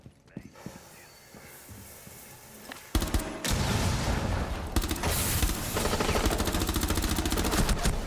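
Rapid bursts of gunfire from the video game Rainbow Six Siege, after a quiet stretch with faint clicks and footsteps, erupt loud and continuous for several seconds with dense repeated shots.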